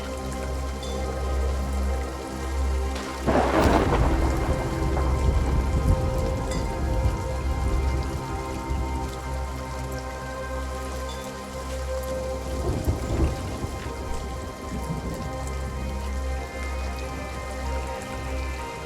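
A thunderstorm in the pirate game Sea of Thieves: steady heavy rain hisses throughout, with a loud nearby thunderclap early on and a fainter rumble later, and no voices.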